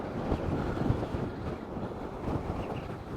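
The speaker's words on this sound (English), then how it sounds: "Getting absolutely blasted in this wind here." Strong wind buffets the microphone on a gravel motorbike ride, a loud, continuous low rumble with gusty swells, close and unbroken, with no talking.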